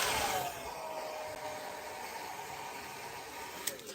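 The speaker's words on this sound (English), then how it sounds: "So I'm just gonna be using my hairdryer." A handheld hairdryer blows on fresh paint coating a 3D-printed Pikachu model, a steady close broadband whoosh that runs without a break from start to finish.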